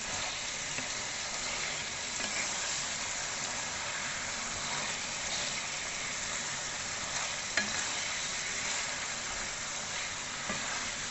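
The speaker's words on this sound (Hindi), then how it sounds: "लहसुन अदरक के पेस्ट को भी चिकन के साथ भूनेंगे 4 मिनट के लिए" Steady sizzling of chicken frying with ginger-garlic paste in a pan for karahi, with occasional stirring scrapes and clinks, continuous and fairly loud without any talk.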